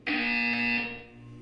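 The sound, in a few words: buzzer in video game Portal 2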